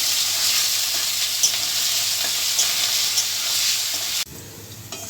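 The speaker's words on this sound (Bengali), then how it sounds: "পনিগুলোকে লাল করে আমি ভেজে নিচ্ছি" Small cubes of paneer sizzle and fry in hot oil in a pan, a loud, steady crackling hiss that fills the clip close up before dropping off abruptly near the end, with no voices.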